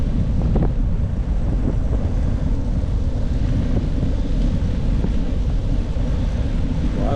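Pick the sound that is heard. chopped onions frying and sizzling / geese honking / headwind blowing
headwind blowing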